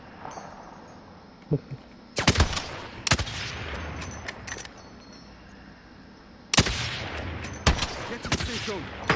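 Rapid bursts of gunfire from a squad-based shooter game with a sniper using explosive rounds, clustered in two volleys of close, sharp cracks around the middle and end, over a steady background bed.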